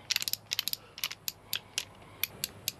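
A ratcheting cutter works through a solar battery cable, producing a close, loud series of sharp metallic clicks in irregular bursts with brief pauses between squeezes.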